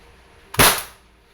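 A single sharp crack from an Umarex Glock 17 Gen 5 pellet airgun fired once at close range, a short broadband pop that fades quickly into quiet.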